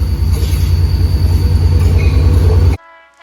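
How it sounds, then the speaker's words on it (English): A train blows right past at close range, a loud, heavy rumble with horn tones and squealing wheels, before cutting off abruptly into quiet. "The train is coming right when we decided to buy the house?"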